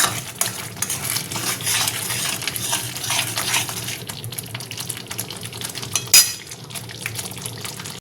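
Prawn malai curry gravy with shahi garam masala simmering on the stove: a steady bubbling, liquid churn with soft pops, punctuated by a single sharp clink near the end.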